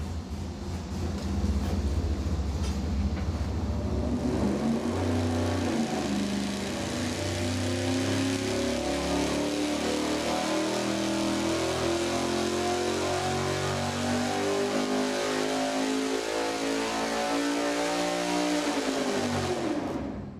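A V8 engine with a regular-weight flywheel and a normal harmonic balancer revs on a dyno during a 300 RPM-per-second acceleration test, a loud steady roar climbing in pitch for about fifteen seconds before cutting off abruptly.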